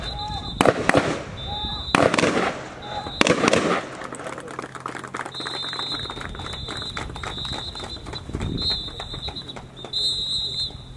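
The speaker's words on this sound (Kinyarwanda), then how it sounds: "Babiri uvuye kuri buri target barakoresha imbunda mu bwoko bwa AK47." AK47 rifles firing at police shooting training, three loud sharp cracks in quick sequence early on, then fainter distant shots over background chatter and a faint birdlike chirp.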